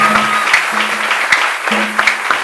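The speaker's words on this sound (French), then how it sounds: "Maintenant, tu peux acclamer encore très fort pour le Seigneur." A church congregation applauds for the Lord, with steady scattered clapping at close-to-moderate distance over a low sustained hum and no voices.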